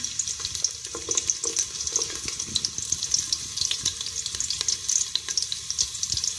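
Garlic sizzles as it fries in a pan for an aloo phaliyan curry, a close bright crackling hiss with irregular spits and pops throughout.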